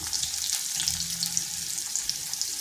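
Chopped garlic and onion, with whole cumin and a green chilli, fry in a pan with a bright, crackling sizzle and occasional stirring scrapes, close and steady, with no talking.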